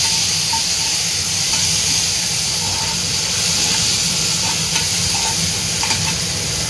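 Tomatoes and green chillies stirred as they fry in a pan, giving a constant close sizzle and hiss with light scraping touches of the spoon throughout, with no talk.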